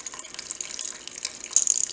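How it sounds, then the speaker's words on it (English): Cold water is poured onto freshly churned homemade butter, a light trickling, splashing pour with small spatters, fairly quiet and close, with no voices. "And now I'll add a little bit of water, just the cold water,"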